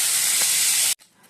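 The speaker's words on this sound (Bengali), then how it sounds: "জল দিলাম, একটু নাড়াচাড়া করে জল দিয়ে দেবো।" Water poured into a hot pan sends up a loud, broad steam hiss that holds steadily for about a second, then cuts off abruptly, leaving only faint background.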